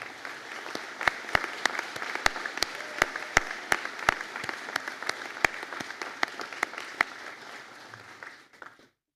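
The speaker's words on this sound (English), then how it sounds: "can I ask the class of Bachelor of Science in Pharmaceutical Science to be upstanding for a round of applause?" A graduating pharmaceutical science class at a conferring ceremony receives applause: sparse, sharp individual claps ring out over a softer bed of hall clapping, fading away toward the end.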